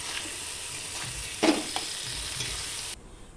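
Turmeric, chilli powder and ginger paste sizzle steadily as the masala for carrot, potato and paneer kofta is sautéed. One sharp spoon scrape lands partway through, a couple of softer stirs follow, and the frying cuts off abruptly near the end.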